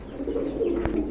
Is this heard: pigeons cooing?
yes